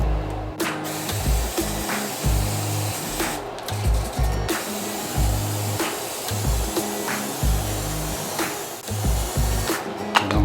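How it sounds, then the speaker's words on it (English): Repeated short hissing bursts of butter spray onto bread, pulsing irregularly and close up, with no talking. "You got some spray butter."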